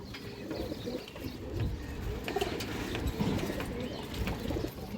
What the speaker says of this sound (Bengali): এখানে অনেক কবুতর আছে